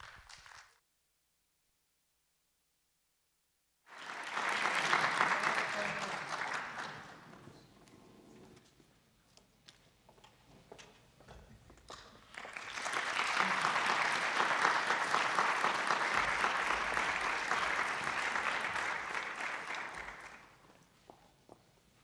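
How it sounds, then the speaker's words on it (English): Audience applause welcomes musicians of the China Conservatory of Music Percussion Ensemble, rising after a silence into a full sustained wash, easing off, then swelling again into a second long, loud round of clapping. "So now let's, with applause, to welcome our musicians from Beijing."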